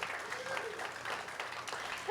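Audience applause at a political rally, a dense, steady wash of clapping from a large crowd that holds throughout.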